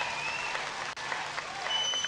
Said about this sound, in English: But you hear the emphatic applause